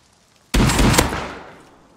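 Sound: gunshots in the video game Rust

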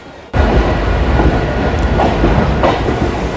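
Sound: train departing Naihati Junction station

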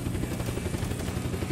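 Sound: helicopter in video game Unturned

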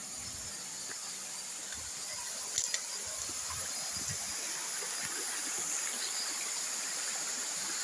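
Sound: mountain river flowing

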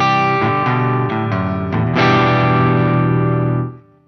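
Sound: electric guitar through a Soldano SLO-100X amp

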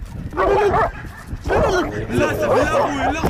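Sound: dog barking

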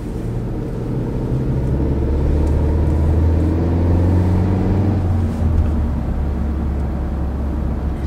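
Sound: car tire rolling noise on pavement

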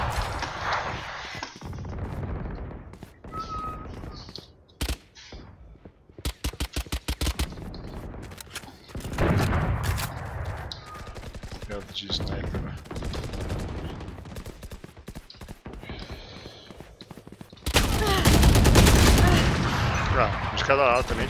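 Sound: gunfire from weapons in the video game Valorant

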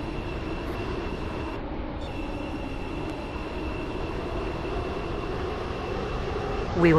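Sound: Class 707 train running in a video game

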